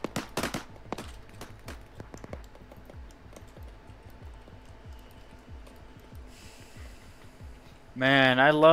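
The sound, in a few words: gunfire in the video game Arma 3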